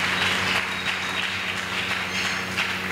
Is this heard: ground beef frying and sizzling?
no